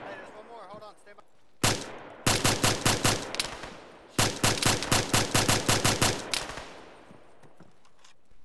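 Rapid automatic gunfire from a ShackTac Arma military game session, two long bursts of fast, evenly spaced loud shots separated by a short pause, with faint voices in the background before the firing starts.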